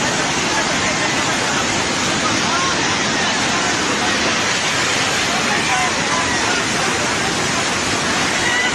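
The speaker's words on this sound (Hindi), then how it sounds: "नुवाकोट में त्रिशूली नदी का उफान देखिए जरा।" Flood surge of the Trishuli River in Nuwakot, Nepal, a loud, unbroken roar of churning water that stays constant throughout, with possible faint voices buried in the noise.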